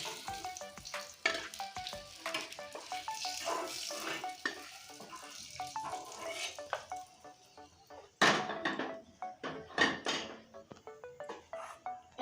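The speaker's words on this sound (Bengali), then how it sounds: "এই দেখুন মাছটা আমি অনেক সময় ধরে ভেজে নিয়েছি দেখুন লাল লাল করে" Fish frying in oil in a pan, with a dense, steady crackling sizzle up close and occasional clinks and stirring knocks; the sizzle briefly flares louder partway through. No talking.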